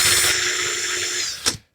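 Power drill spinning 40 gauge straight wire into a Clapton coil, a steady high whine for over a second that ends in a short burst and stops, close and loud.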